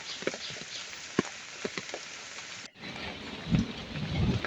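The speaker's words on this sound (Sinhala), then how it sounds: "දැන් නම් වැස්ස පොඩ්ඩක් අඩු වෙලා තියෙන්නේ. සැරින් සැරේ වැඩි වෙනවා." Steady rain patters across a garden with lemon and mango plants across the whole stretch, with scattered louder drops and a brief dip before heavier, lower rumbling returns near the end.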